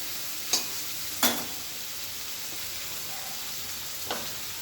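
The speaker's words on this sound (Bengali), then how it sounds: "এগুলোকে একটু ভালো করে ভেজে নিতে হবে।" Pieces of fish fry in hot oil in a pan, a steady close hiss of sizzling with three brief utensil knocks from stirring spread across the few seconds, no voices.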